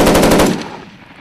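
Loud M240B machine gun burst during Marine live-fire range training, a rapid string of sharp reports ringing out close, then decaying into echo across the range.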